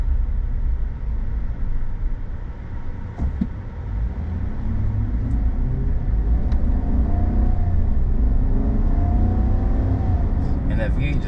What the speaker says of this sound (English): That V8 just sounds so good.